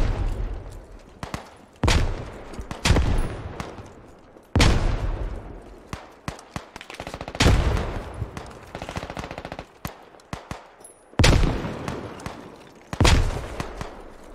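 Grenade launcher fire and explosions in a tactical shooter video game, loud close blasts and bursts of gunfire arriving in irregular bursts with decaying booms between them.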